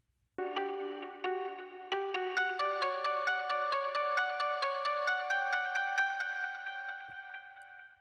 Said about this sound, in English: we also got this lo-fi effect, bandwidth changing over time too